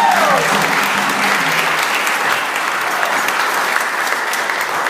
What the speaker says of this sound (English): Applause once more for the Wakefield's Djembe